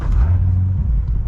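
A Chevrolet C6 Corvette's engine fires up in normal drive mode, a loud, steady low rumble close by with no talking.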